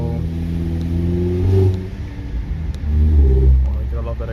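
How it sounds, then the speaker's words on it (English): A modified Toyota Camry project car revs its engine twice through an aftermarket exhaust, each deep, throaty swell rising and falling close by with a brief idle between them. "I love that exhaust"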